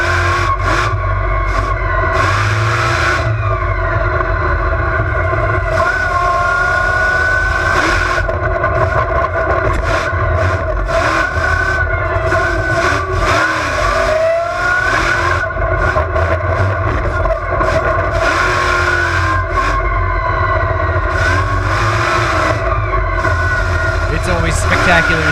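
Onboard a Bigfoot monster truck driven by its driver at an Indiana State Fairgrounds family event, the engine roars loudly and continuously, rising and falling in pitch, while a voice talks over it.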